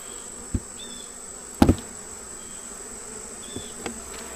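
Honey bees buzz faintly and steadily at an open hive during an inspection outdoors, with a few brief knocks and thuds from handling the hive equipment.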